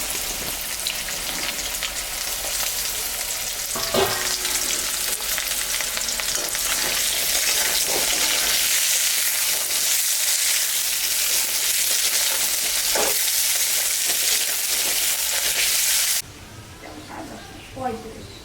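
Chopped onions frying with already fried potatoes in a pan, a loud, dense, continuous sizzle with occasional stirring scrapes, cutting down sharply to quiet near the end.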